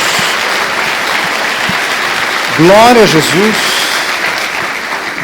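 A congregation applauds in a church service, a steady wash of clapping that continues while a voice rises over it in praise partway through.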